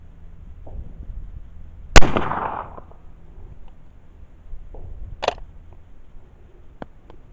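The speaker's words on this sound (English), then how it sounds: "These are my last two cartridges. I'll fire them from my shoulder with the suppressor" Two sharp, loud reports from a suppressed, re-barreled and rechambered K31 Swiss rifle fired from the shoulder, a few seconds apart, each with a brief decaying tail over faint background hiss.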